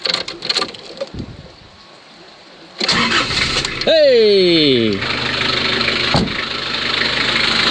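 A car engine cranks and catches after a jump start, revving up with a rising-falling whine, then settles into a steady idle; a voice shouts briefly before it starts.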